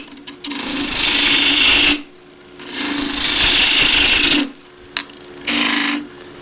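A skew chisel used as a peeler shaves wood on a lathe while turning a mallet, three sustained hissing cuts of about two seconds each with short quiet pauses and a faint motor hum between them.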